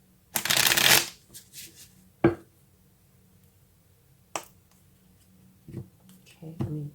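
A deck of tarot cards is shuffled in one brisk riffle burst, followed by a few sharp card taps and soft handling sounds, close and quiet.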